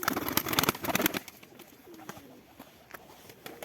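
A pigeon coos in soft, low, rolling calls close by, with louder fluttering and rustling at the start before the cooing continues alone.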